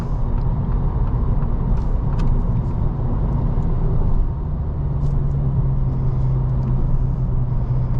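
A 2024 Acura Integra A-Spec with six-speed manual cruises in sixth gear at about 60 mph and 2,500 rpm, a steady low engine drone and road rumble heard from inside the cabin, with no talking.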